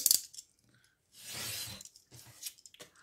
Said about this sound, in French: On va venir couper.